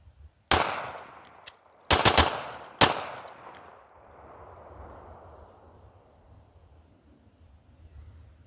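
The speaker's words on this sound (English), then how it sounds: "I'm going to fire into the embankment. It's all mud, so it'll absorb the bullets fine." A Glock pistol with a forced reset trigger firing five sharp, loud shots into a mud embankment outdoors, one single then quick bursts, each echoing and decaying into quiet ambience.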